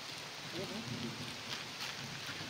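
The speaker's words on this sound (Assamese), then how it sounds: "বৰষুণ দিছে ছাতি আনা নাই ভিজিম এতিয়া" Rain falls outdoors in a steady, close wash of hiss and patter that holds even throughout, with faint low murmurs underneath.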